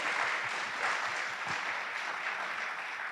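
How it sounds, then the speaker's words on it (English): Sustained applause from an audience at a St. Louis workforce event, a steady dense wash of clapping that holds evenly for the whole stretch without a break. "Can we give them all a round of applause?"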